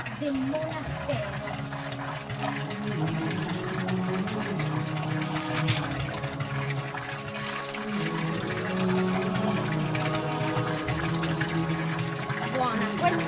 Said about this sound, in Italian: Acqua del monastero.